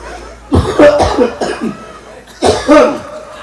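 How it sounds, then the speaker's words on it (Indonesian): Several loud, close coughs come in two bursts, a run of harsh hacks followed after a pause by two more, with a little voiced sound between them. "Ya, batuknya aja sih."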